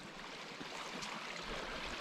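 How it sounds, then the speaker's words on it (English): A small hillside burn in Glen Clova, Scotland, gushing over stones as little miniature waterfalls beside a bog, a steady, fairly faint rushing wash of water heard close by without any talk. "you can hear it gushing there"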